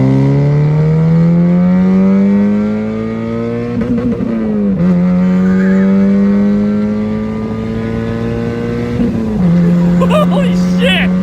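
A Mazda Miata with its muffler deleted is pulled hard up to 7,000 rpm on an interstate. The engine revs loud and close, with a rising drone that dips briefly at each upshift and then climbs again.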